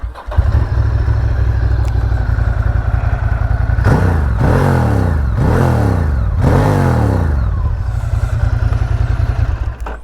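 A Ducati ST3 motorcycle engine idles steadily close by, then gets three sharp throttle blips that rise and fall in quick succession before settling back to a steady idle.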